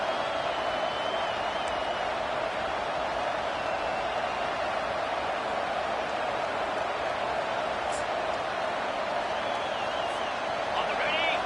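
A big crowd at a Virginia Tech versus Michigan State college football game roars steadily in the stadium as the defense holds near the goal line, a dense constant wash of noise with no breaks.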